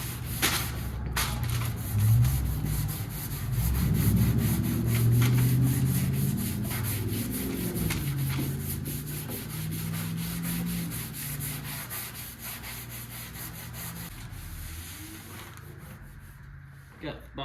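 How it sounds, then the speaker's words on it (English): Continuous hand sanding of epoxy primer on a 1979 Volare wagon car door, a steady close rubbing scrape throughout, with a voice talking over it at times. "I'm probably gonna go ahead and sand this spot back out"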